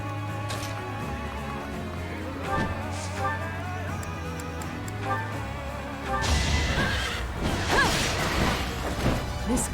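A horse whinnies in the Fire Emblem: Three Houses video game over a layered game soundtrack, with a burst of louder clashing action and swooshes toward the end.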